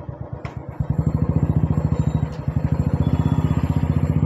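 Royal Enfield Bullet motorcycle engine starting, with a brief crank followed by a steady, rapid thumping single-cylinder idle, loud and close, with no talking.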